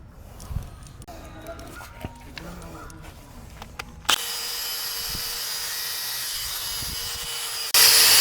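A power tool whirs as it polishes an RV wheel rim with Flitz polish, a sustained steady drone that starts after a few seconds of quieter clatter and handling, then grows louder near the end.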